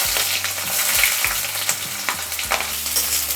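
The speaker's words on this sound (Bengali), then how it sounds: "এটা কিছুক্ষণ আমরা ভাজা ভাজা করে নেব" Chopped onions fry in a pan with black pepper and caraway seeds, giving a loud, continuous sizzle broken by repeated scraping stirs of a utensil.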